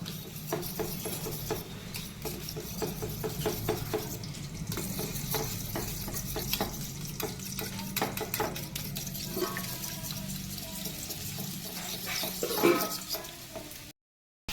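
Beaten egg seasoned with salt and turmeric sizzles in a pan, scrambled for mixed fried rice, with a steady close frying hiss broken by quick clicks and scrapes of stirring; no one speaks.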